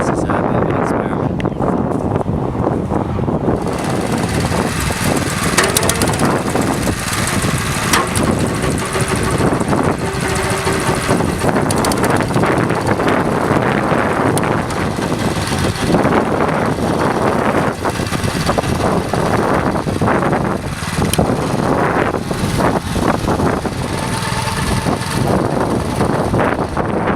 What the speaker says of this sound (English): I'm just going to try the flail mower.